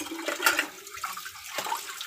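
Water poured into a pot while making tea at home, a splashy, running pour lasting about two seconds at moderate level, close by, with no voices.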